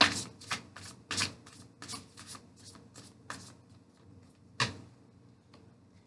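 Tarot cards being shuffled by hand at close range, with quiet, rapid riffling flurries and a sharper snap near the end, alone and fairly soft.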